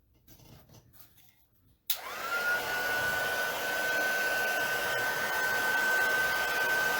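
Heat tool switching on with a sudden click and then blowing a steady loud whooshing hum while drying ColorSparx galaxy card backgrounds, after a few seconds of quiet handling noise.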